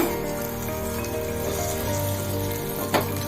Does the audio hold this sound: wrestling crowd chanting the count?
no